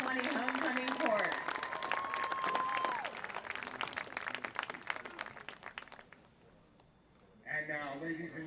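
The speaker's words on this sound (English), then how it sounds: "Let's have another round of applause for the entire 2020 homecoming court." A crowd at a high school varsity football homecoming applauds for several seconds under a man's amplified announcement, then the clapping fades and speech continues.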